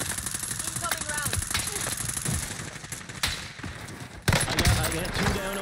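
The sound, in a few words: incoming gunfire in Warzone video game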